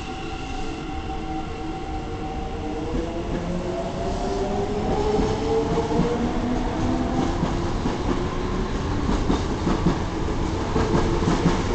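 A Keikyu 5300 series eight-car limited express pulls into Kanazawa-Hakkei station while station improvement work is under way, its wheels clattering steadily and brakes whining in long descending tones as it slows, loud and close throughout.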